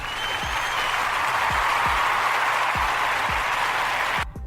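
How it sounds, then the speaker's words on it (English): Steady applause from a crowd, dense and sustained, cutting off abruptly at the end. "I got to give a round of applause to St."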